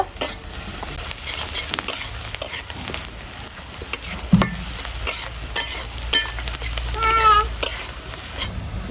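Onions frying in oil for a homemade country-chicken biryani, with a constant sizzle and sharp stirring scrapes and clinks, plus a brief cat-like meow near the end.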